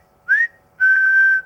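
A loud fingers-in-mouth whistle rings out alone in two blasts: a short, rising one first, then a longer, steady, piercing tone held for more than half a second.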